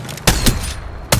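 Video game gunfire, loud close bursts of shots in a few quick clusters with short gaps between them.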